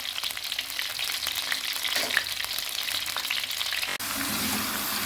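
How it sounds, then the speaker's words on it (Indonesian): Smoked fish fries in hot oil with a dense, continuous sizzle and crackle, occasional stirring clatter, and a short break near the end before the frying resumes. "Setelah kita menggoreng ikan asap udah selesai"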